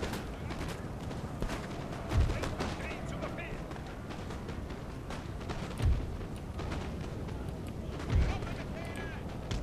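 Musket volleys in the Napoleon: Total War video game, three dull booming shots spread across the battle under busy game noise, with a voice talking over them.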